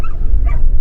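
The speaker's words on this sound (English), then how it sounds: "What's up with all the dogs too?" Dogs in a Sicilian countryside village with sheep nearby, a quick loud close yelp followed by a whimpering whine in one short burst.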